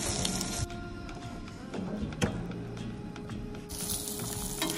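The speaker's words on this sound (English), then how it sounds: "Sizzle, sizzle." Pancakes fry in a pan while camping in a glamping trailer, a steady crackling sizzle with faint clicks and hiss, close and fairly quiet, no voices over it.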